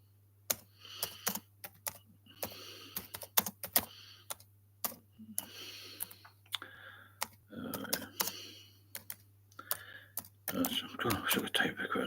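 Bursts of quick clicking keystrokes on a computer keyboard come in uneven runs separated by pauses, close and crisp, with soft whispered speech mixed in and a low steady hum underneath.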